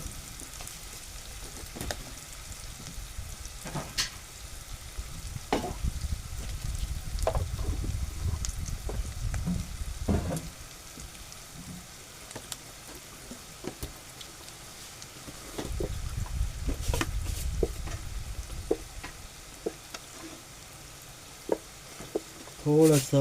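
Two lengthwise-sliced onions frying in a pan for Schezwan chutney, a low sizzle that swells in two longer stretches and is punctuated by scattered scraping clicks of stirring.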